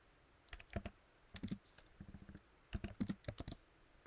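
Close, quiet typing on a computer keyboard: irregular clusters of soft key clicks with brief pauses, no voices.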